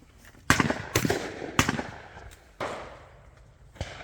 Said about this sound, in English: Now let's shoot this one for real.